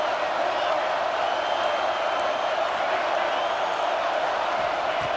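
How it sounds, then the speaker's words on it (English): A steady wash of stadium crowd noise from EA Sports College Football 26 swells during a third-down play, a broad, constant roar that holds without breaks beneath the game's commentary. "Third down, and the crowd really getting into it."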